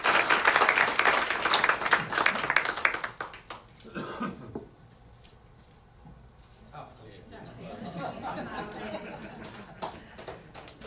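An audience at a city commission meeting applauds to congratulate an employee, loud clapping filling the first few seconds and then trailing off into scattered claps and murmuring voices.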